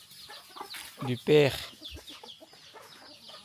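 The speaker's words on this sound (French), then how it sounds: "Oh, le monde des poulets, hein." A group of chickens clucks close by, with one loud squawking call in the middle, while someone speaks French over the birds.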